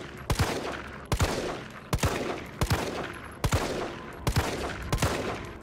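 Gunfire in Resident Evil 3 cracks out against zombies in a rhythmic series of sharp shots, mostly in quick pairs spaced about a second apart, loud and close.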